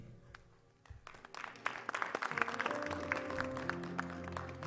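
A church congregation breaks into applause that builds from scattered claps into sustained clapping, moderately distant and filling the room.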